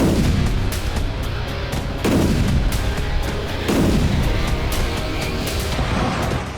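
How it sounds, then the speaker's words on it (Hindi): Heavy booms from a Ukrainian tank shelling Russian positions, with about three large blasts spaced a couple of seconds apart and sharp gunfire cracks scattered between them, loud and close. "यूक्रेनी टैंक ने रूसी ठिकानों पर जबरदस्त बमबारी की"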